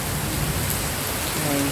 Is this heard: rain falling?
yes